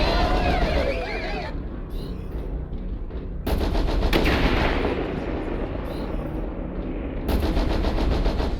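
Large pulse lasers fire in MechWarrior Online, with several loud, rapid staccato volleys broken by short pauses of quieter battle ambience.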